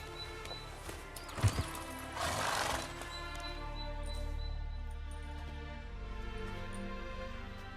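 Horse in The Witcher 3 slowing from a gallop, with a sharp neigh burst and a few hoof thuds early on, then a low rumbling ambience that fades, no talk.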